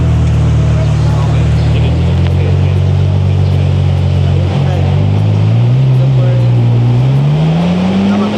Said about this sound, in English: here comes the Dodici cilindri, main straight.